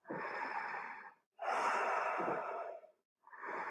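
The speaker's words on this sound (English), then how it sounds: "Taking 5 deep belly breaths." Deep belly breaths during a yoga session: two long, close, airy exhalations separated by silence, with a third beginning at the end.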